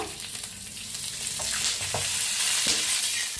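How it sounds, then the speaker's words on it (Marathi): Chilies and garlic being stirred and roasted in oil in a pan, a continuous close sizzle broken by a few scraping strokes of the spoon. "सगळ्याला मिक्स करून भाजूया छान असं।"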